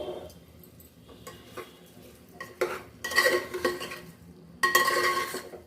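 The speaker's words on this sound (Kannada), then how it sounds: "ಈಗ ಮತ್ತೊಮ್ಮೆ ಮಿಕ್ಸ್ ಮಾಡ್ಕೊಳ್ಳೋಣ ಅಕ್ಕಿ ಜೊತೆ ಎಲ್ಲ ಚೆನ್ನಾಗಿ ಮಿಕ್ಸ್ ಆಗಲಿ" Rice being stirred with chili powder in a pot, a spoon scraping and clinking against the metal in irregular bursts, louder toward the end, with no talking.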